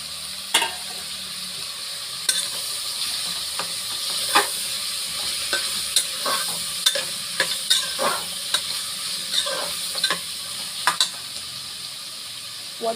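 Chopped tomatoes frying in hot oil for a mushroom biryani masala, giving a steady bright sizzle with repeated stirring scrapes and clinks of a spoon against the pan, close and continuous.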